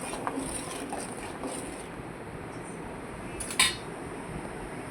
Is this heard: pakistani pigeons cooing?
no